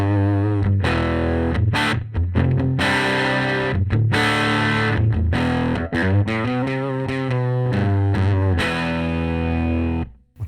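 An electric guitar plays through a Sunn 100S amplifier turned up loud, giving a thick, distorted tone with sustained chords and a few short breaks before the sound cuts off.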